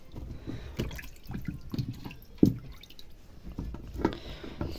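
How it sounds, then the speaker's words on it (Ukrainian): Water draining and dripping off freshly washed carrots in a kitchen, with soft irregular drips and trickles plus a couple of sharper splashes, heard close and fairly quiet. "Зараз водичка стече"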